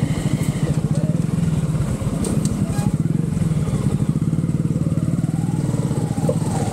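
A motorbike riding off-road along a forest trail, its engine thrumming steadily and close, with speech over the sound.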